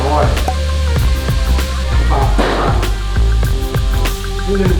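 Pork and holy basil stir-fried in a hot pan, loud steady sizzling with scraping spatula strokes and clinks throughout, a voice speaking briefly in the background.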